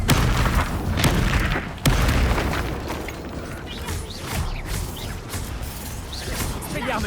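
Spell blasts from the Hogwarts Legacy video game boom and crash in a steady stream of loud impacts and whooshes, with a voice speaking over the combat.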